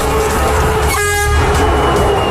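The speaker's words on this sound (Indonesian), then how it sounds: "Klakson kereta selalu mampu memekakan telinga." A train horn blasts loudly and steadily near a railway line, one sustained toot that fills the whole moment with no talk over it.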